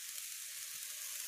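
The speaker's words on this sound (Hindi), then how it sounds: "अब इस मसाले को जो है थोड़ा देर भूनने देंगे" Spice masala for palak paneer sizzles steadily in hot oil as it fries, a close, even hiss with faint crackles and no talking.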